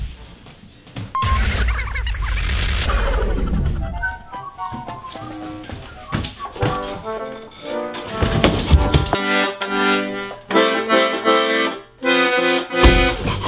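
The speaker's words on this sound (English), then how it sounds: "I'm just playing my accordion." Accordion played clumsily by a beginner, with harsh, uneven chords and bursts of reedy tone starting and stopping abruptly, loud and close, including a thumping crash-like noise early on.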